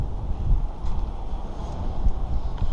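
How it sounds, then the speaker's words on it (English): Strong wind before a blizzard buffets the microphone out on a frozen lake during an ice fishing trip, a steady loud low roar with gusts swelling and easing throughout, no voices. "That's some wind right there."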